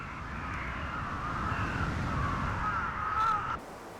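Crows cawing in the city of Ulsan, a series of harsh, repeated calls from several birds over a steady background hum, fairly near and loud, ending abruptly.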